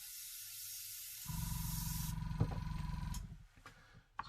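A Harder and Steenbeck Infinity CR+ airbrush sprays in a steady close hiss, joined after a moment by a low fluttering rattle as the airflow is adjusted, ending with a brief tapering burst.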